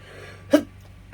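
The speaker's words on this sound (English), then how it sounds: "I need to sneeze on camera" A single short, sharp sneeze bursts out close by in an otherwise quiet room.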